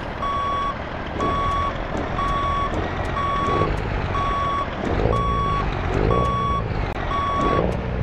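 Truck reversing alarm in the mobile game Grand Truck Simulator 2, a steady run of about eight evenly spaced electronic beeps over a rumbling idling engine, with faint hiss-like bursts between them.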